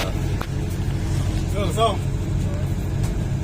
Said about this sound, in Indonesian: Dan bis melanjutkan perjalanan